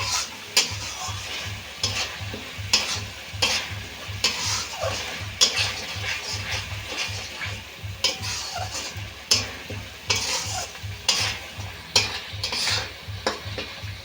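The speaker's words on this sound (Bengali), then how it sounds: "সর্ষেটা আমি ভালো করে কষে নিয়েছি" White mustard paste is sautéed and stirred in a pan for a pabda fish curry, making a steady, quiet sizzle with regular, rhythmic scraping strokes of the spoon close by and no talk.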